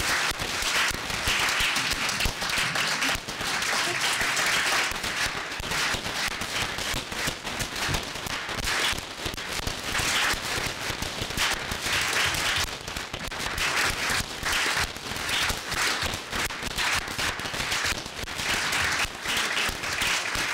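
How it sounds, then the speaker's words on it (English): An audience gives sustained, dense applause for five honorees at a divinity school gathering, loud, even and steady throughout. "May we please recognize all 5 Gomes honorees with a round of applause now"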